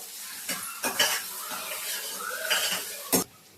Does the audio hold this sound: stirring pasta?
yes